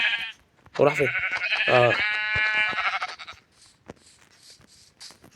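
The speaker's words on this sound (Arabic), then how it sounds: "خروف تاني." A sheep bleats in the video game Minecraft, one long, wavering, close cry under a voice, followed by quieter clicks and game sounds.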